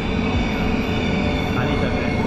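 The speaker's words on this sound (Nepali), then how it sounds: "ट्रेनको प्रतीक्षामा ल ट्रेन पनि आइसक्यो" An automatic driverless train pulls into a station platform on a line in South Korea, giving a loud, steady rolling rumble with a bright mechanical hiss that fills the whole stretch.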